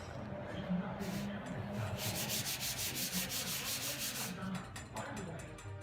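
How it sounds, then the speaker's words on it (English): Steady, close rubbing and scraping of wet sanding on car paint to remove overspray, continuing in a rhythmic back-and-forth for several seconds. "I love wet sanding."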